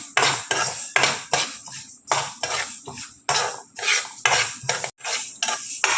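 Fenugreek and mustard seeds roast dry in a pan for a tomato pickle as a spoon scrapes and stirs in steady, repeated strokes, close and clear with no talk.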